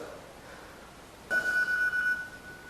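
During a business presentation, a mobile phone starts ringing partway through with a steady electronic tone that sounds fairly faint against a hissy room background.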